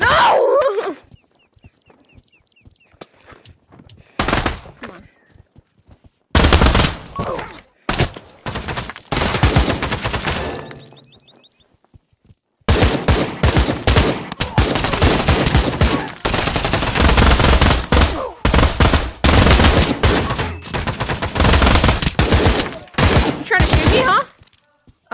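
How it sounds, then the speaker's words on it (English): Loud, rapid gunfire in Pavlov VR, long automatic bursts and scattered single shots broken by quiet gaps, the shooting growing nearly continuous toward the end, with brief speech at times. "Oh, you're trying to shoot him."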